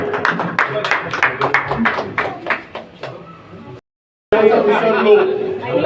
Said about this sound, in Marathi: जरा जोरात टाळ्या होऊन जाऊ दे.